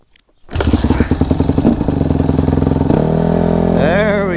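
Honda CRF150RB dirt bike kick-started and catching right away, settling into a close, loud, chattering single-cylinder idle that climbs in a short rev near the end; nobody speaks.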